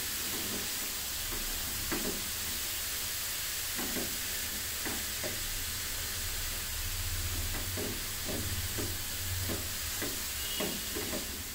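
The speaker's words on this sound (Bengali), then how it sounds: "এভাবে নেড়ে চেড়ে ভালো মতন ঘিয়ের সাথে মিশিয়ে গাজরটা ভেজে নিতে হবে" Grated carrots fry in ghee for carrot halwa, giving a continuous close hiss and sizzle broken by regular soft scraping strokes of stirring every second or so.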